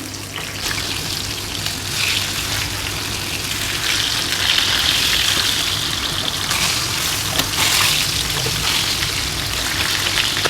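Pieces of chicken sizzle and crackle in hot oil for chicken mandi, a steady loud frying hiss that swells and fades slightly over the whole stretch, with no voices.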